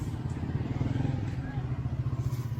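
A motorcycle engine putters close by in a fast, throbbing low rhythm, steady throughout, while people talk in the background.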